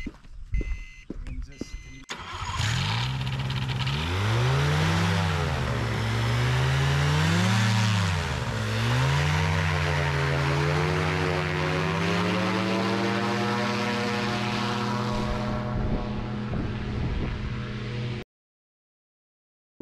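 A paramotor's engine and propeller rev up loud and close for takeoff, the pitch rising and falling in waves before holding a steady drone, then cutting off abruptly; voices are heard at the start.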